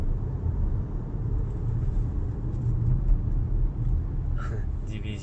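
A car drives along a city road, heard from inside as a steady low rumble of engine and tyres, with a few faint higher sounds near the end.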